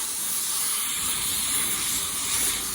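Spray gun laying the first clear coat on a car, a loud, steady close-up hiss of atomised spray that continues unbroken for the whole short stretch.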